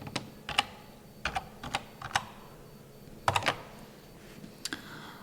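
Keys clatter on a computer keyboard in short bursts of quick clicks, close and clear, separated by brief quiet gaps, with no one talking.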